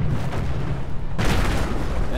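Artillery barrage in the World War II strategy game Company of Heroes, a heavy continuous rumble of booms that swells sharply into a loud blast partway through, with speech mixed in.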